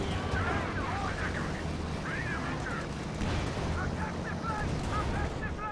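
Explosions and gunfire from a Company of Heroes 2 battle as a Churchill tank is destroyed, a dense continuous roar of blasts under steady talking.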